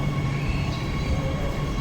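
Shenzhen metro train runs through an underground station, a steady loud rumble and hum of wheels and motors filling the whole short stretch with no talk.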